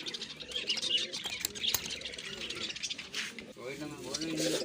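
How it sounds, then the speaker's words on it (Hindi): Double-eyed pigeons at a Bond Bazi flying event coo and chirp close by, with brief wing flaps, while someone talks over them throughout. "ये सारे कबूतर हैं।"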